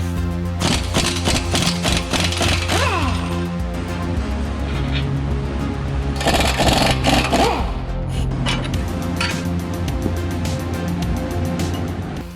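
An impact gun hammers off the strut bolts on an RSX in a shop, sounding as rapid rattling bursts in the first few seconds and again midway, loud and close over a steady background hum.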